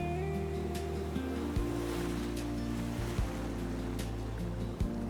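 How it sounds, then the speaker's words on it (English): River water pouring over travertine waterfalls in Croatia, a steady broadband rush heard continuously at moderate distance, with a low rumbling hum underneath. "The sheer volume and power of the water create constant mist and a thundering roar"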